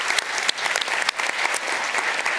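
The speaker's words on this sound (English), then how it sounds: "a big round of applause" Dense applause from a sizable crowd, steady clapping filling the room with no voices standing out.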